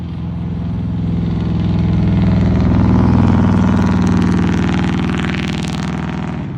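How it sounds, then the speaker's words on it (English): A loud truck passes near a golf practice round in Farmville, North Carolina, its heavy engine drone swelling steadily to a peak midway and then slowly easing off. "I just hate the loud truck."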